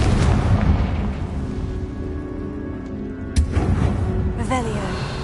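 A Confringo blast spell explodes in Hogwarts Legacy, a sharp burst cutting through a loud, busy game soundscape, followed by a shorter crackling burst, while a voice talks over the scene.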